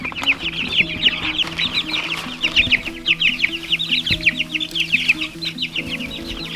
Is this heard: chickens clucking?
yes